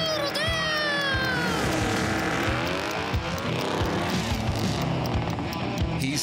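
A toy car drives on in a children's show, heard as a loud, continuous revving engine with sweeping, rising and falling whine and tire-squeal-like tones, with speech mixed in.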